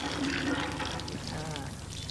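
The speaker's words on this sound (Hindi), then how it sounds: "अच्छा पानी आ रहा है।" Water gushing steadily from a village hand pump, a continuous splashing, pouring wash at close range with no talk over it.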